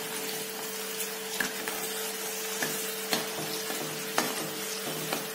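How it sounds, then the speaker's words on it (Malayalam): Snack mixture ingredients frying in hot oil for homemade bakery-style mixture, a steady close sizzle broken by scattered sharp pops and crackles, with no talking. "എണ്ണയിൽ നിന്ന് പൊട്ടി തെളിച്ചു വരും."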